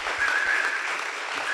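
Audience applauding a pianist at an event, a steady, close wash of clapping with a faint whistle riding over it, lasting a brief moment.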